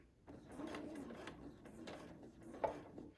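A sewing machine runs a few lock stitches in one spot before free motion quilting, giving short, quiet mechanical bursts of whirring and needle clicks that stop and start.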